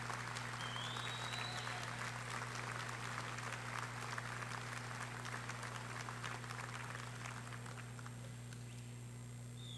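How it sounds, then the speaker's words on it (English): Sustained applause from a large crowd at a university undergraduate commencement ceremony in an arena, steady and dense throughout, fading slightly toward the end, with a constant low hum underneath. "give them a big round of applause for the support they have given you through your journey."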